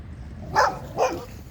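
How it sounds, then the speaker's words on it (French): A dog barks twice, close and fairly loud, with a short gap between the barks against a quiet outdoor background. "Un chien qui veut m'attaquer."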